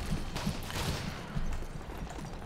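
Gunfire in the Modern Warfare 3 multiplayer shooter, a quick run of sharp distant shots cracking irregularly over background ambience.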